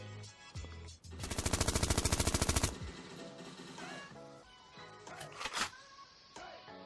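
An automatic weapon in Fortnite fires a rapid burst of about twenty shots, loud and close, followed by quieter game sounds and a few scattered impacts.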